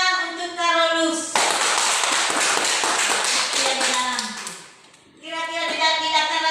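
Primary school pupils clap for a classmate in class, a burst of quick hand claps from a few seconds in, with a voice talking before and after and a brief dip near the end.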